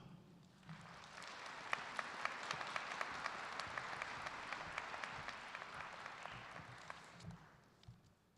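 Steady applause from a commencement audience at an engineering graduation ceremony, many hands clapping evenly, rising quickly, holding for several seconds and tapering off, heard from within the hall without talk.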